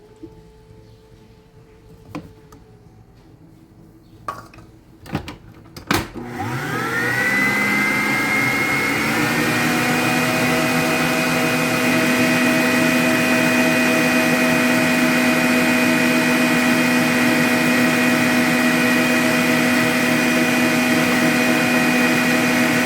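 A kitchen blender whips milk and wheat flour, starting after a few sharp knocks and clatters, then spinning up into a loud, steady whine that drones without a break for the rest of the clip.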